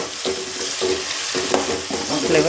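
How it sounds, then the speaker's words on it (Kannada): Tomato frying in hot oil in a pan for tomato fried rice, with a steady close sizzle broken by repeated stirring scrapes at a regular rhythm and no voices. "ಇದು ಆಯಿಲ್ನಲ್ಲಿ ಸರಿಯಾಗಿ ಫ್ರೈ ಆದಮೇಲೆ ಇದು ಫ್ಲೇವರ್ ಬಿಡಬೇಕು"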